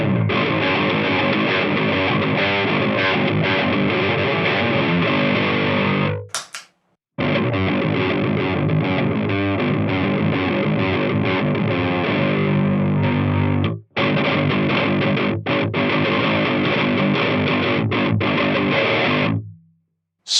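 Low-tuned electric guitar played through a Pure Sky overdrive pedal with the gain turned down, ringing chords in three loud sustained passages split by short silences, no talk.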